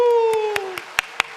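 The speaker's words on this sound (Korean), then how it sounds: "우리 살아계신 하나님께만 영광의 박수 한번 힘차게 30초 동안 들려드리겠습니다." At a church worship service, a congregation claps in praise. A sustained voice trails off, then about six sharp claps land in a steady, evenly spaced rhythm.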